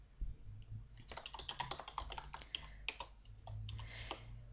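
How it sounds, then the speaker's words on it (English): Quiet, quick keystrokes on a computer keyboard enter a command during a text-based fantasy game, a brisk cluster of close clicks over low background hum. "Typing in Griffin"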